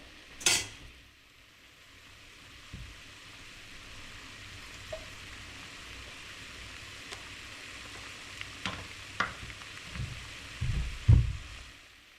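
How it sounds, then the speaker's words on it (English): Pork chops simmer in their juice in a pan for an Italian-style weeknight dish, giving a soft, steady sizzle with a few faint utensil clinks and a louder clatter near the end. "we want these to simmer for a few minutes"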